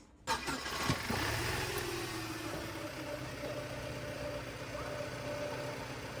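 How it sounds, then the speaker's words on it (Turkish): A BMW E90 engine cranks and catches with a sharp start, flares briefly, then settles into a steady, even idle heard up close for several seconds with no talking. "arabayı bir çalıştıralım, bir sesini duyalım"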